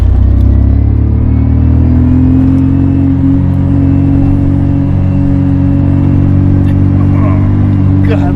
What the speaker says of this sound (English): there's a lot more engine transmission noise, because the solid shifter